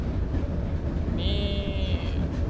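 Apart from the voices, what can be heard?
train riding on rails in Charles Train horror video game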